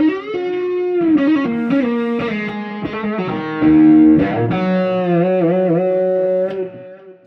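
Electric guitar played through a Klon overdrive pedal into a Marshall amp, with a phrase of warm, driven sustained notes and bends that rings out alone before fading at the end.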